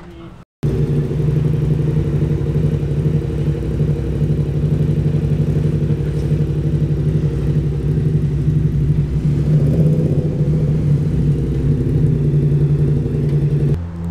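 A 2022 Yamaha R7 motorcycle with a titanium straight-through 2-into-1-into-2 exhaust, no baffles, running on a dyno: a loud, steady, close rumbling drone held throughout, with a slight rise in pitch partway.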